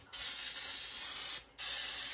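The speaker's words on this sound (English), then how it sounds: "we're spraying Baker's Joy now, okay? Or any kind of non-stick spray." Baker's Joy non-stick cooking spray misted into a cake pan: two close hissing bursts, one long and one short, separated by a brief pause.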